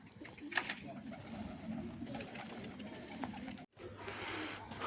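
A racing pigeon comes in to land at a loft, with wing flutters, soft bird sounds and a brief interruption while people talk in the background.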